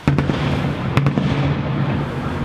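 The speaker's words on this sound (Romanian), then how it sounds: "Sunt artificii și noi nu le vedem." Fireworks explode outdoors in a rapid crackling barrage of sharp pops over a continuous low rumble, heard from some distance with no voices.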